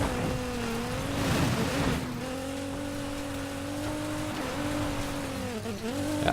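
A race-spec car in the video game Need for Speed Payback drives with a steady, droning engine note that rises and dips slightly over several seconds, with no talking.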